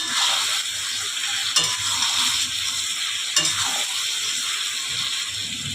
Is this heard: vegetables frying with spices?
yes